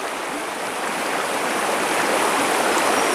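Fast-flowing river water rushes in a steady, loud, unbroken roar along a riverbank fishing stretch, with no voices over it.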